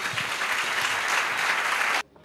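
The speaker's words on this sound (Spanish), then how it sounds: "Para todos ellos un aplauso" An audience claps steadily in a dense, loud burst of applause that cuts off abruptly near the end, leaving brief quiet.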